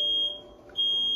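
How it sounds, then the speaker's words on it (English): A fire alarm in the Sonic Frontiers video game emits a steady, piercing high electronic tone, briefly dipping in the middle before returning at full strength, with a low game hum underneath and no talking. "Fire alarm."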